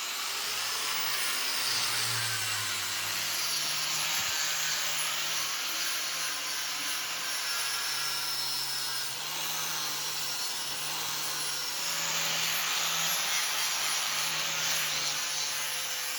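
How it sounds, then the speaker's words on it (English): A large belt grinder refines the primary bevels of a high-carbon steel blade for a Dao sword forged from a bearing, giving a continuous harsh abrasive hiss with a steady motor hum beneath, loud and unbroken throughout. "Moving over to the large belt grinder, I'm refining the primary bevels, slowly walking the blade across the platen"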